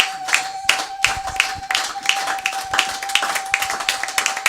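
A church congregation claps along in steady rhythmic bursts, loud and close, with a sustained tone running underneath and no clear voices.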